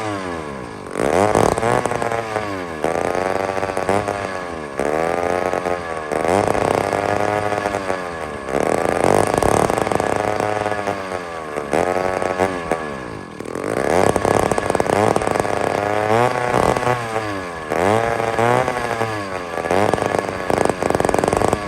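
An old chainsaw, its carburetor just primed, cranked repeatedly on the starter cord, giving a loud rhythmic mechanical whirring in steady bursts that never catches into a running engine.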